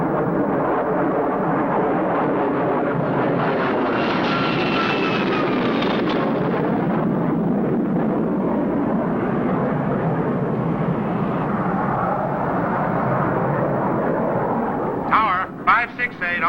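Military aircraft pitch out of a diamond formation to land: a loud, sustained engine roar that swells and fades, with radio voices talking over it and a few sharp crackles near the end.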